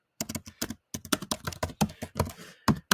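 Quick typing on a computer keyboard, close and crisp, with irregular bursts of clicking keystrokes and short pauses between words, with no voices.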